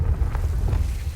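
Deep, rolling boom of a Confringo fire spell blast in Hogwarts Legacy, a muffled explosive rumble that swells and lingers for about a second.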